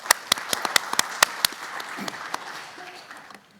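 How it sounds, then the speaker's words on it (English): A conference audience applauds, starting with sharp, close claps that thin into scattered clapping and fade out within a few seconds. "Please join me in applause for Professor Makalani."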